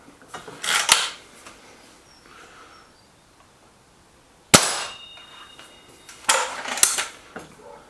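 Webley VMX Quantum air rifle, or SMK Mod19 SG, firing AA pellets: a sharp metallic crack of a shot and pellet strike midway, with fainter clattering metallic bursts before and after, near and loud.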